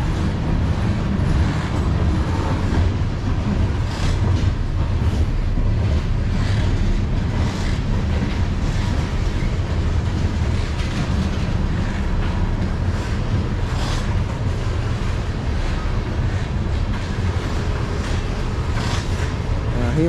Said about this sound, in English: I'm gonna miss the other train on the other side.